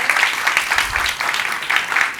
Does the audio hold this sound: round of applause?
yes